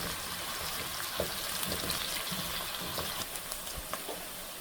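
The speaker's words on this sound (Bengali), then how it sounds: "এখন তেল দিয়ে পেঁয়াজটাকে একটু ব্রাউন কালার করে নিব" Onion browning in hot oil in a home kitchen pan gives a dense, steady sizzle with soft crackles and pops scattered through it, heard close and alone.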